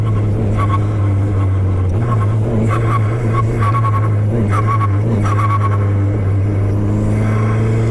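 A Formula 4 race car on a circuit drones with a loud, steady engine note heard from close by, with repeated short surges and gear-change dips in a regular rhythm.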